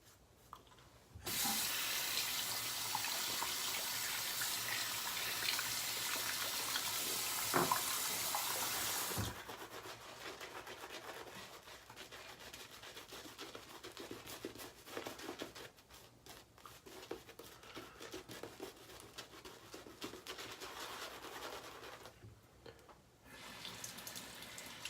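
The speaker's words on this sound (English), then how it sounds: "Got a little bit of water back to the brush." A bathroom tap runs steadily and close while water wets a shaving brush, loud and broadband for several seconds, then continuing more softly with faint splashing and handling noise, with no voices.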